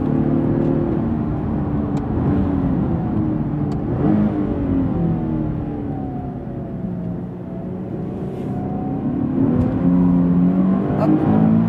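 A Nissan 370Z GT4 race car accelerates hard on track, its engine note rising and falling through the gears in a loud, continuous run from start to finish, with no voices.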